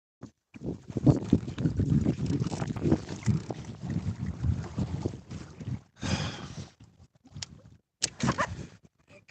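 Wind gusts buffet a small fishing boat holding its position on open water, a close, blustery roar of rushing air and microphone buffeting that swells and drops, with brief harder bursts near the end.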